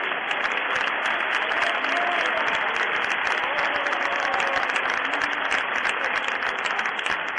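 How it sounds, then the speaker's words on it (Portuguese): Church congregation applauding with steady, dense clapping that fills the room and holds at an even level for several seconds. "Jesus, aceita um aplauso do Teu povo"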